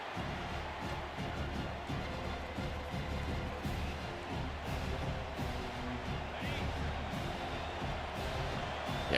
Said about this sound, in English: Crowd noise is going to be an issue.